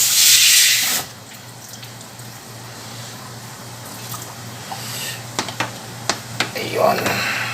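Hot water gushes loudly from a tap under pressure for about a second, then cuts off, followed by faint hum and a few small knocks and splashes.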